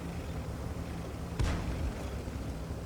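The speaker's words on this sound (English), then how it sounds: "here comes the artillery" A single deep artillery shell impact booms once against a tank in World of Tanks, a short heavy blast that rumbles away over a steady low battle drone.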